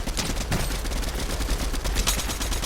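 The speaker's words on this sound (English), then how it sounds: "Being shot at again." Dense rapid gunfire from the video game Fortnite, with overlapping shots and bursts crackling steadily through the whole stretch at a loud, close level.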